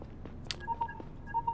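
A telephone in the video game Lacuna gives short electronic tones, a brief series of soft beeps, quiet and close, with faint clicks around them.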